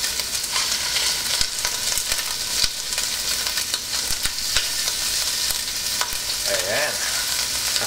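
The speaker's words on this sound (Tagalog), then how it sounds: "At habang niluluto natin itong hipon" Shrimp fries in hot oil for pancit bihon, a loud continuous sizzle and crackle close by, broken by occasional stirring clatters, with no talking.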